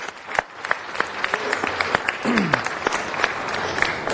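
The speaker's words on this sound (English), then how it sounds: "Let's give Sergio a round of applause." Scattered hand claps from a small audience at a city council meeting, applauding a community worker named Sergio: uneven individual claps, moderately near, with a brief voice murmuring partway through.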